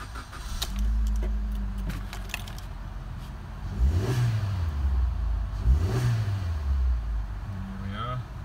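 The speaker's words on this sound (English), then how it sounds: "Car starts on the button." A Suzuki SX4 1.6 GL hatchback engine is started by push button, then revs up twice in rising and falling sweeps, close by, with people talking alongside.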